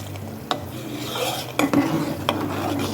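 Milk being stirred in a pot for sheer khurma, a spoon scraping and rubbing against the metal sides with a few sharper clinks, close and steady under a low simmering hiss, no talk.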